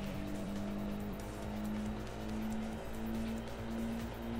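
A race car hums steadily in a driving video game, its engine note rising gradually while cornering, with faint tire scrub underneath, fairly quiet and with no talking.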